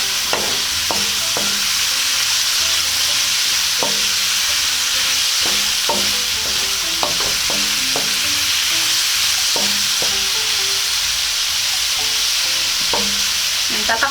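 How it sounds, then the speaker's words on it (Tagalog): Tomatoes cooking down in a pan for Cebuano nilarang, a loud continuous hiss of frying up close, broken by occasional soft knocks and scrapes of a stirring spoon, no talking. "lulutuin lang po natin ng konti yung ating kamatis na parang medyo malanta po siya."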